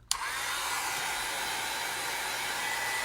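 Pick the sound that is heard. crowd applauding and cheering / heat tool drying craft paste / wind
heat tool drying craft paste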